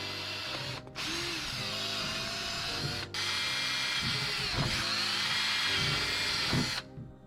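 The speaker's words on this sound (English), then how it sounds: "So with your pilot holes drilled," A power drill bores pilot holes while a Rubigrid mounting system is installed, loud and close, with steady whining runs broken by brief stops.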